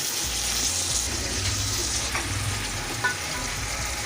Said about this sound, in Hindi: अब हमारी चिकन फ्राई हो रही है